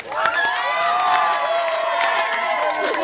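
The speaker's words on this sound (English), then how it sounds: "Round of applause for everyone who's here and everyone who's completely drunk." Crowd at a live pop concert cheering, whooping and clapping, loud and sustained throughout with shouts rising over the applause.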